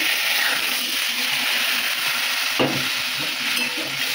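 Dal is tipped into hot spiced oil in a pan, bringing a steady, fairly loud sizzle with a brief splashing burst partway through as it hits the oil.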